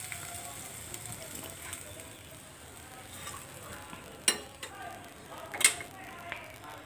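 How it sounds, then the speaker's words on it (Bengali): Fish frying in oil gives a soft, steady sizzle in the background, with a couple of sharp clicks or pops standing out, fairly quiet overall. "মাছগুলো ভাজা শেষ করে নিচ্ছি"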